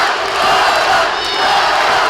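A packed fight-night crowd roars and yells together in a loud, sustained wall of shouting that swells and dips slightly but never breaks.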